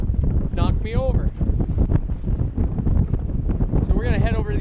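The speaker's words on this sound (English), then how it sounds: "man, it is windy out here today" Strong, gusty wind buffets the microphone on a lake during pike fishing from a small boat, a steady roaring rush under someone talking throughout.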